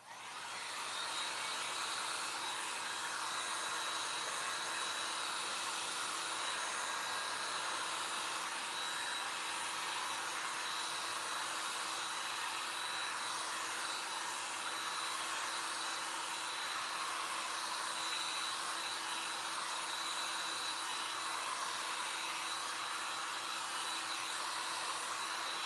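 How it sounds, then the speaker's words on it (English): A hand-held air dryer blows continuously at close range on wet paint, a steady whooshing whine that holds level the whole time with no voices. "very quickly use our air dryer here"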